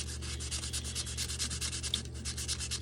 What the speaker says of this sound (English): as you sand this, it starts rounding this off like a real baseball bat